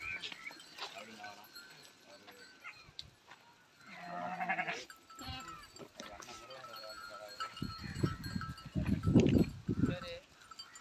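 A village herd of goats bleats near and far, calls rising in the second half, with hoof clatter and people speaking throughout.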